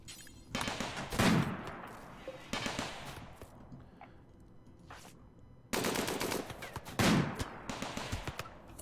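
Turrets and colonists fire on raiders in RimWorld, a loud burst of rapid machine-gun and gunshot fire around one second, then scattered shots, then a second heavy volley near six seconds followed by more sporadic bursts.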